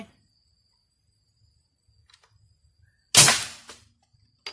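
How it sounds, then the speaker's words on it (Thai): A homemade PVC gas-powered air gun fires once at a target, giving a single sharp, loud crack that decays quickly. A smaller click follows a moment later, after near silence. "มาดูว่าผมจะยิงซ้ำอีกทีว่ามันจะเข้าเป้าหรือเปล่านะครับ"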